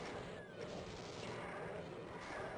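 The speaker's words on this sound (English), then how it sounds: "I can just hear some ferocious hit scanning, so I think it's chain gunners" Dense, continuous rapid gunfire from chaingunners on a Doom map called Base XUZ, a loud crackling barrage of overlapping shots filling the whole stretch with no pauses.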